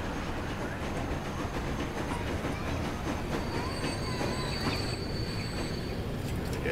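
A passenger train rolls steadily along the track in the Transport Fever simulation game, with a constant rumble and faint wheel squeal near the end.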